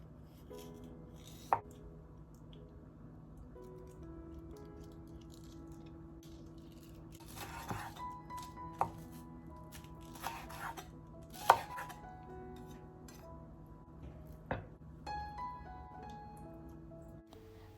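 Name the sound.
knife slicing green onion thinly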